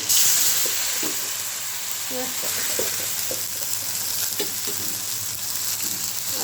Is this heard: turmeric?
yes